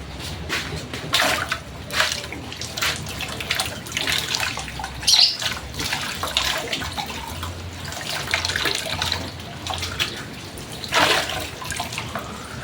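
Tap water pours steadily into a container for several seconds, a continuous splashing wash that swells and eases, with no talking over it.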